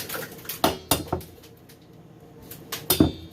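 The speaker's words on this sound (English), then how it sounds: "we're gonna crack the eggs into the bowl" Eggs cracked one after another against a bowl for homemade eggnog, giving several sharp close taps and clinks in two small clusters with quiet kitchen handling between them.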